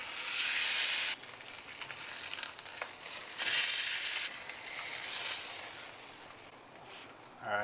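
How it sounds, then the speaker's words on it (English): Steak sears in a hot pan after a brisket beef tallow confit, a loud steady sizzle and frying hiss that swells and eases over several seconds, with a brief louder burst near the end. "I think we are good and ready for our sear"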